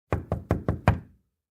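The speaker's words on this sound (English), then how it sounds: "there was a knock at the door." Five sharp, evenly spaced knocks strike a door close by, loud and hollow, then silence.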